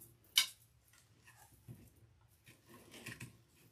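A wire nipper snips wire on a deco mesh pumpkin face wreath, one crisp close click up front, followed by soft rustling of mesh and several quieter ticks and snips.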